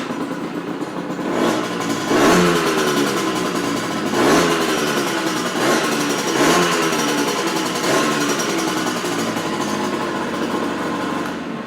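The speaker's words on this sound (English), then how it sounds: "And you see one kick and she fires up." A CPI SX 50 moped's small two-stroke engine fires up on the first kick and runs, buzzing loudly nearby, with several sharp throttle blips rising and falling at a steady pace.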